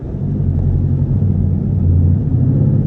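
A straight-piped Jeep with no muffling rumbles loud and steady under acceleration, a deep continuous exhaust drone that swells slightly toward the end.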